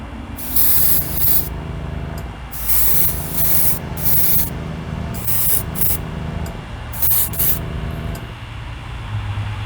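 An aerosol spray can coats a Hot Wheels drag bus with paint in bursts of close, loud hissing spray, several short blasts over a steady background hum.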